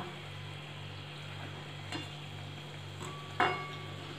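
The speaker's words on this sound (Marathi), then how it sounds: "एकदम हळूहळू हा समोसा तळल्या जात आहे आणि बबल्स पण असे हळूहळू येत आहेत" Pea samosa slowly deep-frying in oil over low heat, soft steady bubbling with faint sizzle, broken by a few light clinks of a utensil against the pan near the end.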